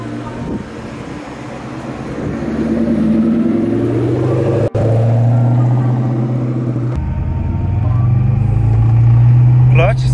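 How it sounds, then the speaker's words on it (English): A 500-plus-horsepower Ford Terminator Cobra with a stick shift rumbles loudly up close, its engine note rising and falling as it is given gas while pulling away, with voices talking over it. "Give it a little bit of gas."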